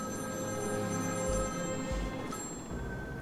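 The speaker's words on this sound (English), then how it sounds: "Oh, the phone is ringing." Telephone ringing in the video game Batman: Arkham City, a moderately quiet repeating electronic ring with brief pauses between bursts over low game ambience.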